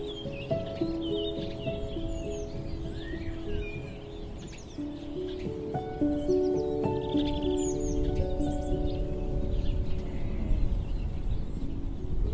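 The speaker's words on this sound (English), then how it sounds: "I can stand here all day just listening to the birds." Spring birdsong rings out on a Swedish farm homestead, with many bright chirps and trills scattered over a constant low rumble of background tones. Nobody speaks over it.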